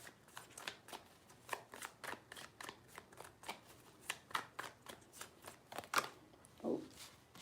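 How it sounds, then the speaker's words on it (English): Tarot cards are shuffled by hand in quiet close-up, a rapid series of soft papery riffles and slaps in an uneven rhythm, with no talking. "3 shuffles."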